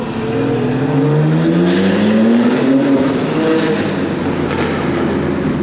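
A BMW G80 M3 in M mode with exhaust valves fully open, a loud close roar that revs and climbs in pitch with crackling, rough exhaust burble over continuous engine drone.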